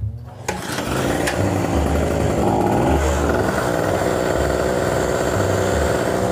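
An Alientec AT1000X 1000-watt generator runs steadily after a brief start, its small engine putting out a loud, continuous buzzing drone close by with no other sounds.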